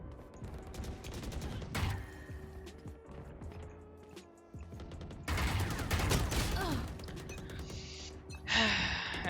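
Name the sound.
Origin Vandal rifle spray fire in video game Valorant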